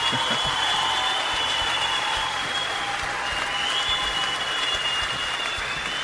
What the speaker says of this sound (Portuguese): Vamos uma salva de palmas pro IAC, gente.